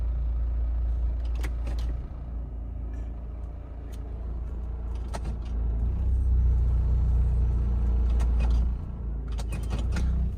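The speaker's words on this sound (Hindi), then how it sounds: "पूरी गाड़ी में दर्र मतलब ना एक बहुत अजीब सी वाइब्रेशन है।" Car sitting in drive with broken engine mounts, shaking the whole body; a deep, loud rumbling vibration throbs continuously, with scattered sharp rattles and clicks over it.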